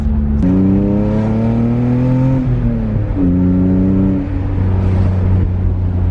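A BMW E36 M3 drift car drives with its engine note climbing and falling through two rising rev sweeps, loud and close, with no talking.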